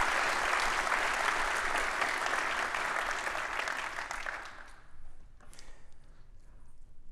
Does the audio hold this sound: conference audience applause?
yes